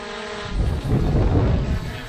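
X35 GPS drone with a three-axis gimbal camera hovering outdoors in wind, a steady broadband whir and buffeting rumble that swells after the first half-second and holds loud and close for the rest.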